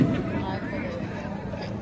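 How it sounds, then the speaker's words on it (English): Fireworks boom at a nighttime display, a muffled thump at the start and another at the end, with people talking between them. "last fireworks."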